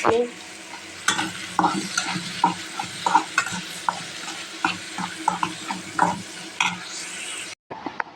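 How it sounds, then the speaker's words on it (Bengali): Prawns cooking in a pan, with repeated stirring scrapes and knocks over a steady frying sizzle, close and fairly loud, ending in a brief cut. "এখানে চিংড়ি মাছ রান্না করতেছি"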